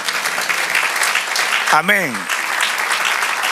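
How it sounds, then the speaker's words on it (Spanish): A church congregation applauds steadily throughout, a dense continuous clatter of hands, while a voice briefly calls out over it partway through. "Dele aplauso al Señor"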